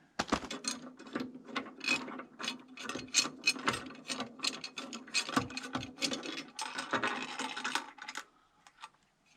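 Rapid irregular clicking and ratcheting from a shoulder joint, a close series of dry clicks lasting several seconds with no speech.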